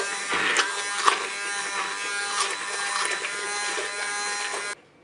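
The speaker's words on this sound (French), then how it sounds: "Maintenant je vais mixer." An immersion blender purees apple and orange compote in a Cookeo cooker bowl, a steady close motorized buzz running nearly five seconds with slight pitch shifts before cutting off abruptly.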